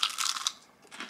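Close, crisp crunches of teeth biting into air-fried perch with a crispy coating, a quick cluster of bright crackles followed by a softer second crunch, faint and intimate.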